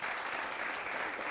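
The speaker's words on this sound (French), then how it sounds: "je vais demander beaucoup d'applaudissements" Studio audience applause on a Burkina Faso BF1 TV variety show, a dense, steady wash of clapping that stays loud and even throughout the brief moment.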